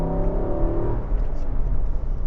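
A naturally aspirated 5.6-liter V8 in an Infiniti QX80 luxury SUV pulls under throttle, a low steady engine drone with rising harmonics heard from inside the cabin, loud and continuous with no talk.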